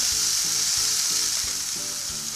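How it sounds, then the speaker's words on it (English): Water hits a hot pan and sizzles loudly and close, a dense steady hiss with a faint rhythmic pulsing underneath. "you know the pan is hot when you put a little bit of water on it. It does that sizzling sound."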